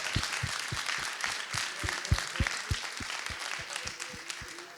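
Audience clapping at a Fuckup Nights business event, a steady patter of applause from a seated crowd with sharper individual claps standing out, continuous through the whole stretch at moderate level.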